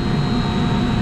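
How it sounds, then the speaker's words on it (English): Chiller room machinery with two absorption chillers running: a loud, steady low-pitched mechanical drone with a thin high whine, continuous and close, filling the space with no words spoken. "Apologize for the noise right now."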